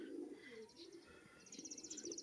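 A male tumbler pigeon coos softly at close range in a loft, low throaty calls mixed with faint chirps from other birds in the background.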